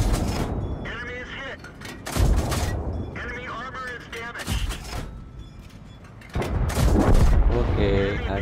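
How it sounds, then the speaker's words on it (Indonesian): Tank cannon fire in the World of Tanks PC game, several heavy booming shots with echoing rumble and explosions, under someone talking over the gameplay. "Tembak-tembakan tapi pakai tank."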